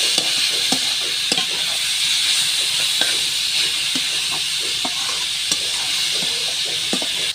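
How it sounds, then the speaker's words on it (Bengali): Kalai greens frying in oil with onion and dried chili, a steady loud sizzle and hiss throughout with repeated stirring scrapes and clicks of the spatula against the pan. "আমি রসুন ছাড়াই ভাজি করছি, শুধু পেঁয়াজ শুকনো মরিচ তেল দিয়া।"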